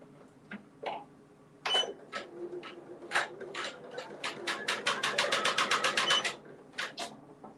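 A multi-needle embroidery machine stitches an in-the-hoop Halloween mug rug in rapid, evenly spaced mechanical clicks and thumps that quicken into a dense run, then pause briefly, heard fairly quietly without talk.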